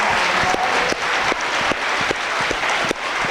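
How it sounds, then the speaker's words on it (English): An audience at a school fundraising gathering breaks into sustained applause, dense and even clapping from many hands filling the room close by for several seconds. "So you need a big round of applause for yourself."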